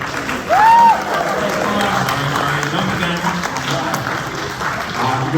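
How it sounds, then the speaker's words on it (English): Banquet audience applauding award winners at a 2022 awards dinner, a steady spread of clapping that runs throughout, with voices talking over it and a brief whistle-like sweep near the start. "Have a big round of applause for all of our winners."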